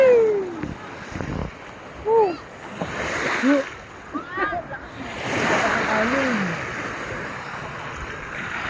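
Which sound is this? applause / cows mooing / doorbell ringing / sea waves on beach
sea waves on beach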